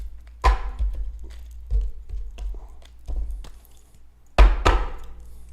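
A tarot deck cut and shuffled by hand on a table, giving a handful of sharp taps and thunks spaced unevenly across the clip, two loud ones close together near the end, with no talking.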